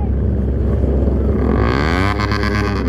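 A loud sport motorcycle engine, a Kawasaki ZX-10R on a group road ride, revs hard and rises in pitch, with a steady roar and wind noise up close.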